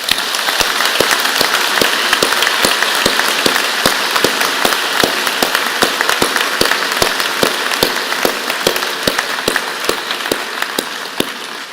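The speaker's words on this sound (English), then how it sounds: "join me and the whole platform party in giving your family and friends a vigorous round of applause" A convocation crowd honoring graduates' families and friends breaks into dense, steady applause, many hands clapping loudly and continuously with no voices over it.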